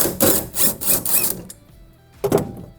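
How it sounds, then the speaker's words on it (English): A T40 Torx bit in a power driver backs out bolts holding the bed rail of a Tacoma truck: several short, close whirring bursts follow one another, then a pause, then one more burst. "There are about 4 bolts with a T40 bit or T30 bit that hold the rail in, and we're going to remove all of those."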